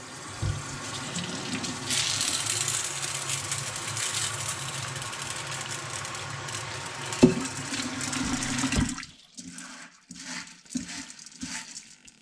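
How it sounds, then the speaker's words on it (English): Water streams from a tap into a bowl of dried popcorn kernels, a steady rushing pour that runs for several seconds before stopping, followed by a few quieter drips and splashes. "it's going to get soaked in water that is just on the cool side of tepid for 8 to 12 hours."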